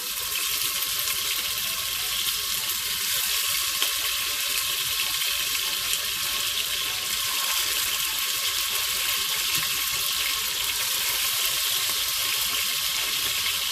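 Pieces of hen fry skin side down in a couple tablespoons of vegetable oil, a loud, steady hiss and crackle of sizzling fat that holds even throughout with no talking.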